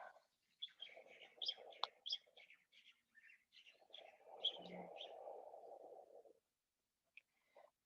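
Several birds sing and chirp in Hawaii, quick bright calls overlapping, with a soft low rumbling hum through the middle and a brief quiet gap near the end.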